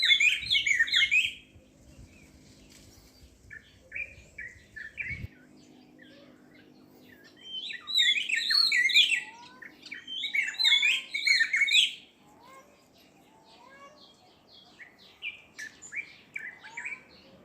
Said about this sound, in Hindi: ये परिंदों की आवाज़ें आ रही हैं जो आप सुन रहे हैं, बहुत ही प्यारा।